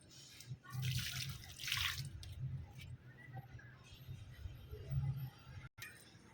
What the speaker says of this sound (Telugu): నేను అటు సైడ్ ఉన్న మొక్కలు మొత్తానికి కూడా వాటర్ ఇచ్చేసి మీతో కలుస్తాను